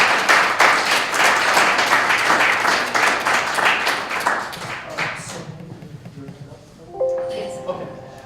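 An audience applauds after a health care policy talk in Michigan, steady many-handed clapping for about five seconds that fades out, followed by quiet room noise and a brief tone near the end.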